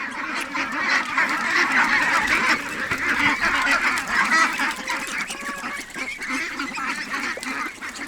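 A flock of ducks on a farm quacks and honks continuously, many overlapping calls close by, forming a busy, unbroken chorus with no talking.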